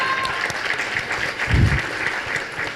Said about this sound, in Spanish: Un aplauso para Almadelia, por favor